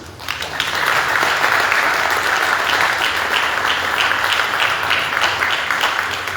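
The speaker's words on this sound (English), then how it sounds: "please join me in giving a resounding applause to Mr. Vitalis Otisi" A university audience gives a sustained round of applause for a guest speaker at a formal campus gathering, steady dense clapping filling the hall for several seconds.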